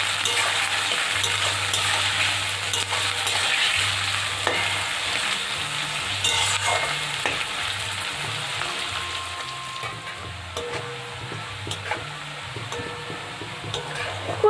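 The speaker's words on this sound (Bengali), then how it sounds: "তেলটা ভালো মতো গরম হয়ে এসেছে। এরপর পেঁয়াজ কুচি দিয়ে দেব।" Chopped onions frying in hot oil for a restaurant-style chicken dum biryani, a steady close sizzle with stirring running throughout, under a low droning hum and no talk.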